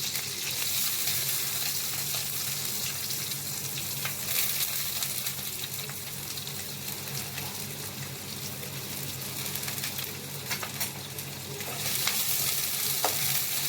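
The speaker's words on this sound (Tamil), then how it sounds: "எண்ணெய் காஞ்ச உடனே பொடிசு பொடிசாக கட் பண்ணி வச்சுருக்க ஆனியன் க்ரீன் சில்லிஸ் போட்டுக்கலாம்" Chopped onion and green chillies fry in hot oil in a kadai, a steady, loud, dense sizzle that runs unbroken throughout, swelling slightly near the end.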